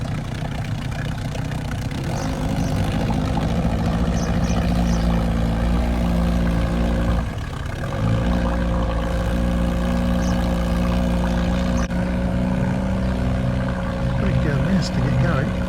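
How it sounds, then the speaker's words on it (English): A small dinghy outboard motor pushing a sailboat runs steadily at a constant idle-like drone, close by, with a short dip partway through before resuming its even hum. "pushed by dinghy outboard"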